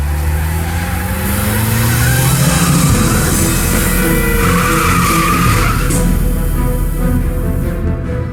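A sports car in the video game Broken Sword 3: The Sleeping Dragon skids past with loud, drawn-out tire squeal and engine roar, rising and sweeping by over several seconds.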